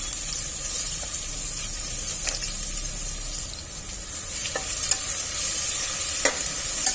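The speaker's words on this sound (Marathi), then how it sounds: "कांदा तेलामध्ये थोडा परतून घेऊया" Finely chopped onion and bay leaves sauté in hot oil inside a pressure cooker for mutton kheema, a constant close hiss with occasional sharp stirring clicks and scrapes.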